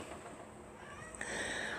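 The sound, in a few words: cat meowing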